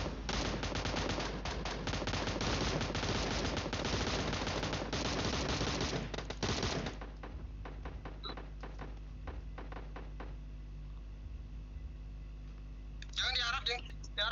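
Gunfire in PUBG Mobile, a dense continuous stream of rapid shots for about seven seconds, then sparser scattered pops, with voices talking throughout.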